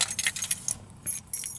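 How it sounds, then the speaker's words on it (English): Car keys jangle close up in a brief flurry of bright metallic clinks and rattles, shaken in a few quick bursts. "keys."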